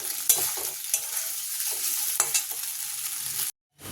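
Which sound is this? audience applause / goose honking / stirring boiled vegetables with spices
stirring boiled vegetables with spices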